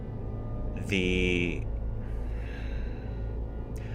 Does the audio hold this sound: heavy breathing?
yes